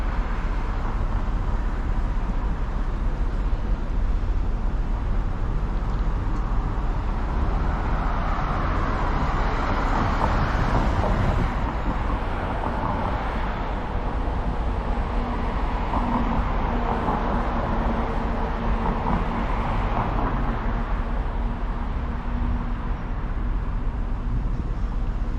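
Cross traffic rolls past a street crossing on 4th Street, a steady broad roadway wash of passing vehicles swelling and fading over about half a minute, with no talk.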